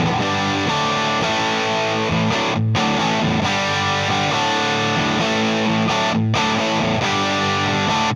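Heavily overdriven electric guitar chords through a Laney LA-Studio amp ring out loud and thick, with two brief pauses between the strummed phrases.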